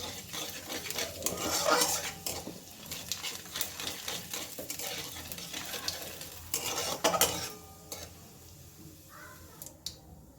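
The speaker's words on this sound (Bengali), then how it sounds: "ফোড়নটা একটুখানি নেড়ে নিচ্ছি" A bay leaf and whole cumin tempering is stirred in hot oil in a pan, producing close, irregular scraping of a utensil against metal over a quiet, light sizzle.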